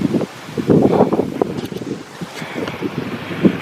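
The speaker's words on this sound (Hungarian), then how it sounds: "És közben baromi hideg szél fúj." Cold wind gusts near an English football ground, roaring and buffeting the microphone in uneven low rumbles that swell and ease over a few seconds, with no speech.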